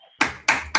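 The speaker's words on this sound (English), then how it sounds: "give a hand of applause to Professor Sankar Sarma for this very nice talk" Three sharp claps ring out close and clear, spaced about a quarter second apart, as an online audience applauds a speaker.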